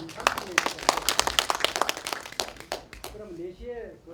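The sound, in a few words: audience applause after request for big applause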